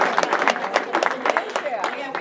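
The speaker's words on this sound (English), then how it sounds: "Please give these Republican candidates for governor a round of applause." An audience at a Republican women's gubernatorial debate applauds the candidates for governor with a brief burst of dense, irregular clapping from a room-sized crowd.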